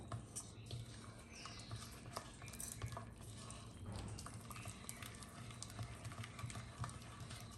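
Ghevar batter is stirred steadily with a utensil against a bowl while chilled water is added, a faint, close, continuous scraping and clinking with soft liquid sloshing.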